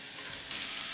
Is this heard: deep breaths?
no